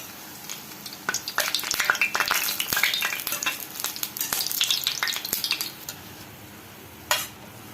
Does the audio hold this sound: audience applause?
no